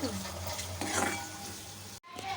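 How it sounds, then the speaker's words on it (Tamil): Radish thokku being stirred in a pan after jaggery goes in, a continuous scraping, bubbling stir with a light sizzle, close and fairly loud, cutting out briefly near the end before resuming. "வெள்ளத்தை சேர்த்துட்டு நல்லா கலந்துக்கோங்க"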